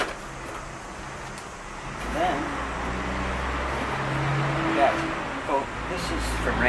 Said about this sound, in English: There's one of the damn trucks going by for all the construction of the road